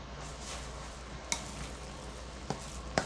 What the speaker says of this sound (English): gonna mix it all in together